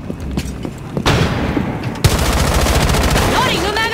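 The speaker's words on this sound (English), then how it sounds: "Flashbang!" A flashbang grenade detonates in Rainbow Six Siege, a sharp loud bang followed by dense ringing noise and crackle, with gunfire-like bursts and rumble around it.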